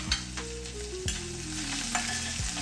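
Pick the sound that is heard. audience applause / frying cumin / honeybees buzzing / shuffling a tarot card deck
frying cumin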